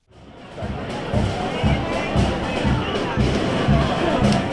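A crowd gathers at the Guildhall in Winchester for the torchlit bonfire procession, a steady hubbub of many voices over regular, evenly spaced low thumps like a marching drumbeat.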